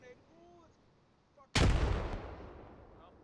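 A grenade detonates in the shooter game Squad, a sudden heavy boom about midway that rolls off into a long rumbling tail, after a quieter stretch holding faint murmuring and small sounds.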